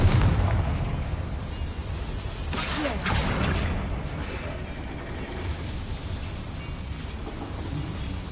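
A fiery Confringo spell explosion in the Hogwarts Legacy video game, a loud booming blast followed by a rolling, rumbling roar that slowly settles over several seconds.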